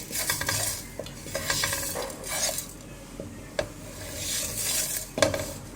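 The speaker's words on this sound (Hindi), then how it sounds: "अब हमने इतना सा रोस्ट करना है इसको कि इसकी खुशबू आने लग जाए।" Turnip and meat curry is stirred and roasted in a pot on a stove over low flame, with a soft sizzle under scraping spoon strokes and occasional light clinks against the pan.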